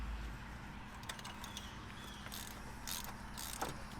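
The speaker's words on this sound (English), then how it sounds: "take your wrench and go ahead and get that in there" Ratcheting wrench with a 5/8 socket breaking loose a spark plug on a 2006 Saturn Vue, heard as faint clicking and creaking mechanical sounds over a low steady engine-bay hum, with a few brief louder clicks.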